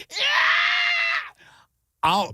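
A voice imitates a shrieking child in a store with one long, high, strained scream lasting about a second, then trails off into a short grunting vocal sound.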